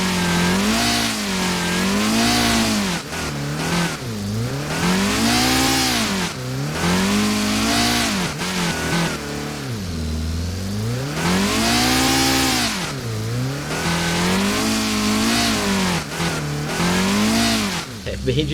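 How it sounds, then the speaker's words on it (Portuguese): In a video game, a car engine revs up and down repeatedly while drifting, its pitch rising and falling in long, wavering sweeps over a sustained, loud roar. "Vamos ver se consigo fazer um drift."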